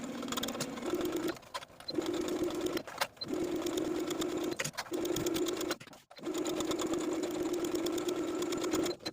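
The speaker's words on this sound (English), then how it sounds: "I'm going to sew the facing in place all the way around with a 5/8 inch seam allowance" A sewing machine stitches a 5/8 inch facing seam around a simple top, running in long steady bursts with brief pauses between passes, close and alone.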